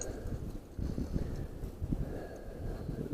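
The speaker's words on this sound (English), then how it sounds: "Windy as all heck" Strong wind buffeting the microphone outdoors at a thick swamp, a continuous low rumbling roar with gusty surges and no voices.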